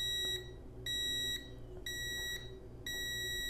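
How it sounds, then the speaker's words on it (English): A portable home gym timer gives a countdown of four evenly spaced, sharp electronic beeps, each about half a second long, loud and clear over faint background hum. "It'll beep at 3 seconds."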